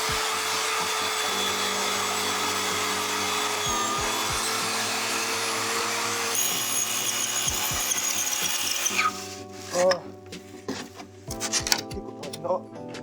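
A power tool cutting wood freehand for a lattice door, a steady buzzing whine with grinding friction that gives way to irregular scraping and knocks, a voice speaking intermittently over it.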